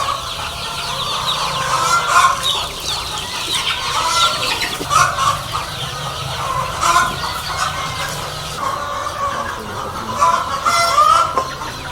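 Many laying hens on a poultry farm cluck and squawk continuously in a busy, close chorus, with repeated loud calls rising above the flock and no voices.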